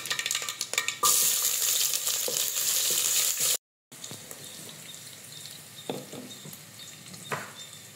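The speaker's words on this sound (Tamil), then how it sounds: "நம்ம கட் பண்ணி வச்சுருக்கிற இந்த சின்ன வெங்காயத்தை போட்டுடலாம்" Small onions dropped into hot oil with popped mustard seeds for a spinach kulambu, sizzling loudly and steadily, with a brief silent break and then a softer crackle with scattered stirring clicks.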